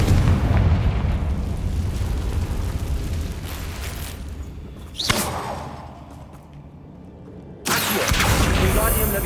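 Confringo fire spell in the Hogwarts Legacy video game, a whooshing cast followed by heavy booming blasts and rumbling, loud and full, with a sharp burst midway and another surge near the end.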